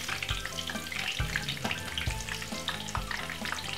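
Thyme, spring onion and white onion sizzle and crackle steadily in hot oil, a close, continuous frying hiss broken by sharp pops and bubbling bursts, with no talking.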